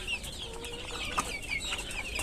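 A flock of desi chickens kept for meat on a farm cluck continuously nearby, with scattered sharper calls over a steady background murmur.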